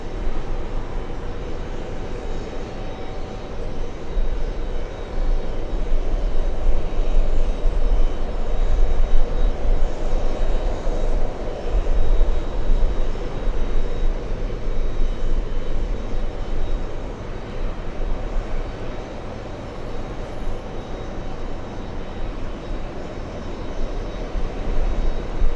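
Jet airliner taking off at JFK airport on a hot summer day, a loud, sustained engine roar that holds steady for about twenty-five seconds with no voices.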